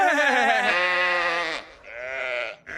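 Sheep in a sheep detective video game bleat loudly and up close, one long wavering call followed by two shorter ones, with no talk over them.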